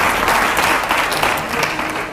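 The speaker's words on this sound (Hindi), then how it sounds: "जोरदार तालियां होनी चाहिए" Studio audience applauding loudly at a political quiz show segment with Asaduddin Owaisi, a dense, continuous clapping that stays strong throughout.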